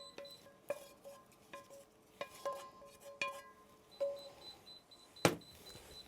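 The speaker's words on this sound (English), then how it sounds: "We'll just stir that in." Beans and tomatoes with an onion and celery mixture being stirred in a pot, giving scattered close clinks and taps of a spoon against the pot, with a sharper scrape near the end.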